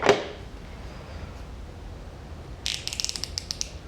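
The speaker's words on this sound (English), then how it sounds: "we have my new Gearwrench 90 tooth ratchets." A new Gearwrench 90-tooth ratchet gives a quick run of sharp, light clicks near the end, after a soft knock at the start and a quiet stretch.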